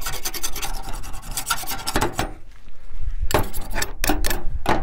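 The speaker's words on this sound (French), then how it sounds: "Voilà, je gratte tout ce qu'il y a." A small knife scrapes beehive equipment clean, loud close rasping strokes in quick repeated bursts with a brief pause midway, no voices over it.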